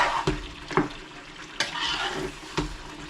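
Curry sizzling and crackling in hot oil, with a few sharp stirring scrapes at regular intervals, close and steady.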